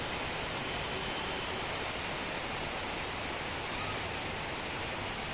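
Evening rain falls steadily on a rooftop, a dense, even hiss of drops that stays loud and unbroken from start to finish, with no voices.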